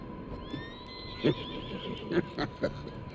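A horse neighs and whinnies in Red Dead Redemption 2, with a few hoof clops following amid a low outdoor ambience.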